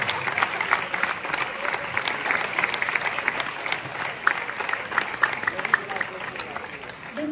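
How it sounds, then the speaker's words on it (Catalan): Festival audience applauding at a presentation, steady dense clapping from a large crowd that holds loud and sustained throughout without a break. "un fort aplaudiment"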